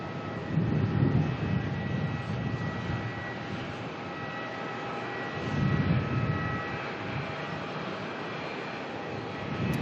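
A Jetstar Airbus A321 arriving from Sydney on its landing at Melbourne, a steady broad jet roar at moderate distance with two swells of low rumble, heard alone without voices.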